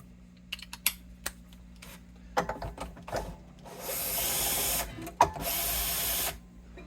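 A Bosch power tool runs close by in two loud sustained bursts of roughly a second each, preceded by scattered clicks and knocks from handling work on a Martin HD-28 acoustic guitar.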